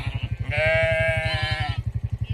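Sheep with lambs on a farm: one long, clear, nearby bleat rises over a steady rhythmic low throbbing that runs through the whole moment.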